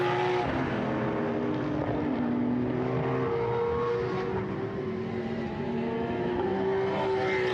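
A GT race car engine at the Portimão four-hour endurance race drones steadily and loudly throughout, its sustained tone shifting gently in pitch as the car runs, with no talk over it.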